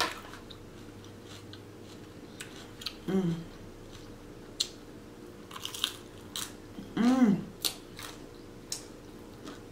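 Someone close to the mic eats a jalapeño Caesar salad with dressing, producing wet crunches and chewing bites at irregular intervals, with a couple of brief voiced hums between mouthfuls.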